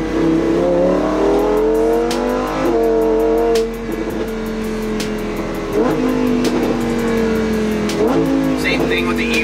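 A Lamborghini Huracan with a center-exit exhaust revs repeatedly, its engine note climbing and dropping in loud close bursts, with brief pauses between pulls and a voice speaking faintly underneath.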